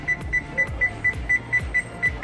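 Kitchen timer alarm going off while lasagna soup cooks, a loud, regular series of short electronic beeps repeating about three times per second over a low rhythmic thump.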